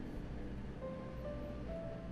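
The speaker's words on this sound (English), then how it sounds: "Swaying on the waves with my eyes closed is making me sleepy." Gentle lapping waves around a sightseeing boat on Lake Shinji in the game Root Letter, a soft continuous water wash with a low steady rumble, with faint tonal music notes drifting above.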